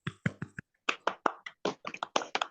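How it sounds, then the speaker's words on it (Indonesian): Students in a classroom clap their hands in short, separate bursts of claps with small gaps between them, close and crisp. "Betul, tepuk tangan"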